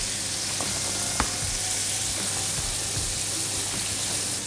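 Sliced onions, green chillies and curry leaves sizzling in a pan of hot oil, a dense steady crackle with a few sharp ticks and stirring scrapes, close and without voices.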